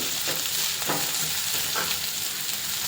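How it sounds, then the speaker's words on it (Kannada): Food frying in a pan gives a steady, close sizzle, with a few soft stirring scrapes rising above it. "ಇದನ್ನು ಚಂದ ಫ್ರೈ ಮಾಡಬೇಕು. ಫ್ರೈ ಆದರೆ ಸಾಕು."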